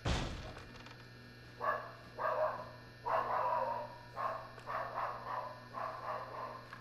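A dog barks repeatedly in Resident Evil 7, roughly nine or ten sharp barks in an uneven run after a brief thud at the start, moderately distant over a low steady hum, with no talking.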